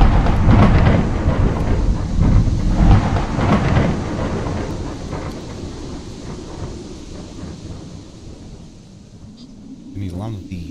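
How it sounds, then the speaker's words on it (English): Thunderstorm in Minecraft: a heavy rolling thunder rumble with steady rain hiss, loud at first and fading toward the end, with a faint voice underneath. "Keep an eye on the storm."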